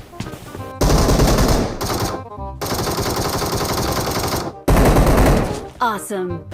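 Automatic gunfire in the mobile game PUBG Mobile comes as loud, dense rapid-fire bursts separated by brief gaps, with a short voice heard near the end.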